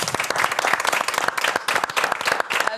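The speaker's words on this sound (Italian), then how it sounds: "Direi che possiamo anche concludere con un applauso" Studio audience applause closing an Italian talk show episode, a dense burst of close clapping with a few faint voices mixed in.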